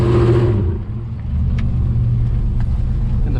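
A pickup truck engine revs hard at first, then settles into a lower, steady motor drone close by, with no talking over it.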